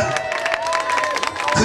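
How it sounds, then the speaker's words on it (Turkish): A crowd at a village folk gathering in Tepeköy, Saraydüzü, Sinop, claps and cheers loudly and continuously, with voices mixed into the noise. "Alkışlar"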